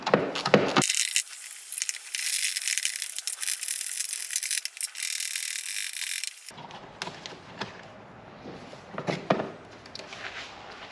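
A ratchet wrench removes size 10 bolts from a Can-Am Spyder RT, clicking in quick bursts of rapid pawl ticks close to the mic, interspersed with handling noises and quieter scraping pauses.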